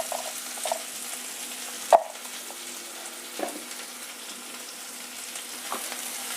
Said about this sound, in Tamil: சோம்பு நல்லா பொரியுது.